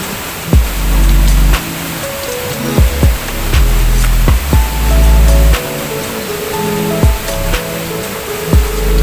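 A waterfall in Rishikesh, India, roars as a loud, steady wash of rushing water close by, with occasional thumps and bumps over the constant flow and no one talking.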